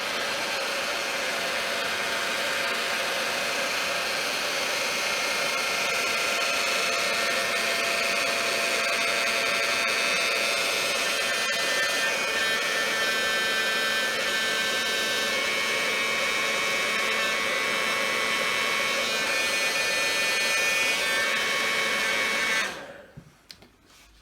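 Hot air blower drying glue on a repaired butterfly house, a loud, steady airy roar held close for over twenty seconds before cutting off abruptly near the end.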